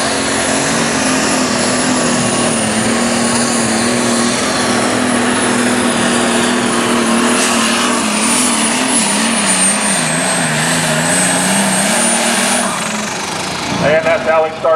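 Light super stock pulling tractor making a loud, sustained engine roar through a full run on a dirt track, pitch rising and wavering over about twelve seconds, then cutting off abruptly, with crowd or announcer sounds after.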